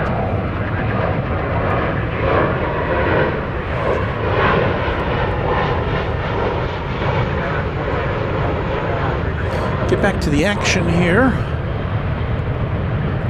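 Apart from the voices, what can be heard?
airplane taking off at DFW Airport runway 36 right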